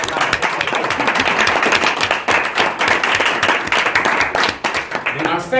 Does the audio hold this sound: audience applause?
yes